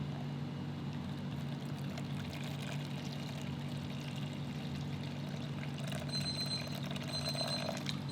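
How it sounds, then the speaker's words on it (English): Electronic kitchen timer beeps in a home kitchen while burger buns are being made, a steady series of thin high tones over a constant hum of kitchen appliances and faint trickling water. "Oh my god, I got 2 timers now"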